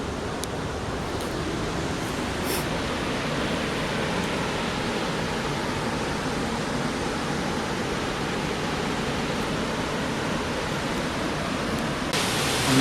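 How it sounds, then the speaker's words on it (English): Laurel Falls in full flow after heavy rain, a steady, loud broadband roar of falling water heard from the trail while descending toward it, continuous and unbroken with no voices. "I'm not there yet, but you can feel it and you can hear it. This is Laurel Falls."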